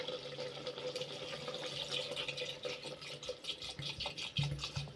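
Water trickles softly into a clay pot of chicken, a faint liquid pour and splash under low background clatter, with no speech.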